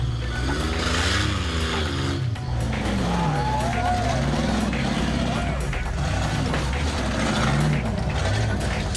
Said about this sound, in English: Revs coming up, but no forward traction.